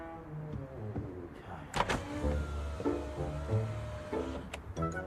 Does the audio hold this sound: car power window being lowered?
yes